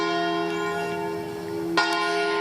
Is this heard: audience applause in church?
no